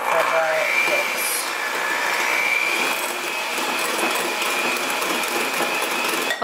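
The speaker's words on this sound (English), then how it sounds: "I will use my hand mixer" Electric hand mixer beats egg yolks with cream cheese, giving a continuous whirring motor whine with a slight rattle of the beaters against the bowl, steady and close from start to end.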